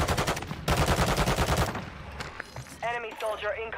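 Rapid automatic gunfire bursts in Warzone's Haunting mode, loud and sustained for nearly two seconds, then scattered single shots and game effects as a voice talks briefly.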